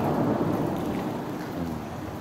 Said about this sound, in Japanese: 雨が降ってて機材濡れちゃうの